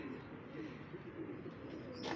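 Golden pigeons coo in a low, steady murmur close by, continuous and soft throughout with a faint brighter rustle near the end.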